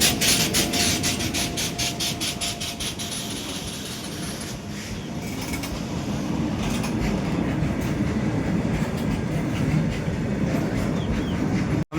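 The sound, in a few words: coal goods train passing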